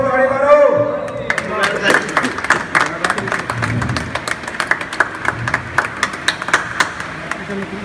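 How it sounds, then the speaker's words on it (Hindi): Friends clap together at a party celebrating 100k subscribers with a cake, a burst of lively applause that thins into scattered claps. Voices and talk run underneath. "सारे दोस्त ताली मारो।"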